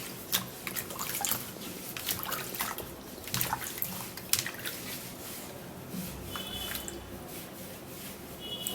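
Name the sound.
washing a sweet melon in running water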